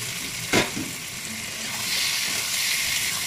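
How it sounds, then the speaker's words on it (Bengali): Fried potatoes stirred with spice masala paste in a pan give a moderate, steady sizzle, with a brief utensil clatter near the start. "এবার আলুটার সাথে কিছুক্ষণ এই মশলাটাকে একটু নাড়াচাড়া করবো"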